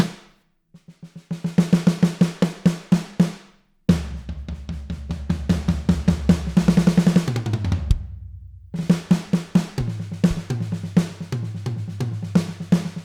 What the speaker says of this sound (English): My favorite snare on the module is the Ludwig 14-inch 402